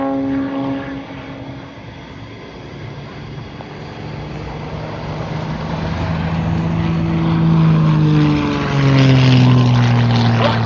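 An aerobatic propeller airplane maneuvers over an Arizona air show, its engine droning loudly with a pitch that sweeps down and back up as it turns and passes, growing louder toward the end.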